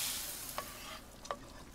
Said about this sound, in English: two pans on the stove, on the same aisle at that.